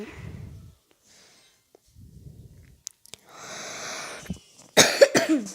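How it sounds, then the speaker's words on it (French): A person coughs several times with breathy gaps between, ending in a louder burst of harsh, close coughs. "je suis désolée si je tousse"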